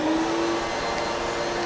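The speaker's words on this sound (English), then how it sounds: "Of course, the vacuum is turned on." Woodshop vacuum running, switched on by a wireless remote on its hose: a steady, loud motor whine with a thin tone and airy rush, heard alone.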